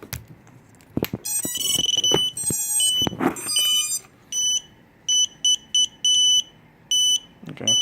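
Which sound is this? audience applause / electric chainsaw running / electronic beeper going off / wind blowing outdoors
electronic beeper going off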